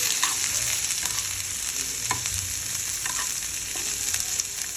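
Shredded cabbage fries in hot oil already tempered with mustard seeds, cumin, asafoetida and green chillies. A continuous bright sizzle carries scattered crackles and stirring clatter, close and alone with no talk.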